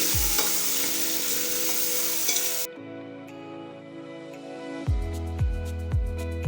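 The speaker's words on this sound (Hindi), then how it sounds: "गोश्त को हम कलर चेंज होने तक फ्राई करेंगे ऐसे ही घी में।" Mutton pieces fry in ghee in a pot for pulao, sizzling loudly at first, then quieter as the crackle drops away, with repeated metal ladle scrapes and knocks against the pot.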